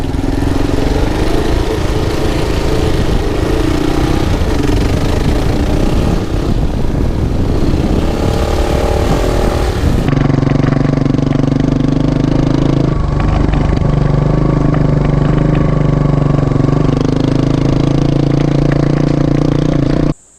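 An adventure motorcycle's engine pulls away uphill on a dirt hill climb, a loud steady drone that shifts pitch midway as the bike gains speed, close to the rider with no talk.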